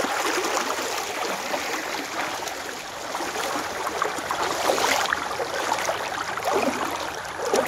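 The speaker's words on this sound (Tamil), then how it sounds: "தண்ணியோட சவுண்டு உங்களுக்கு கேட்கணும்னு நினைக்கிறேன். அப்படி அலையோட சவுண்டு கேளுங்க." Water rushing and splashing over a rocky bed fills the scene with a steady, close wash of noise, small surges rising and falling without break and no voices over it.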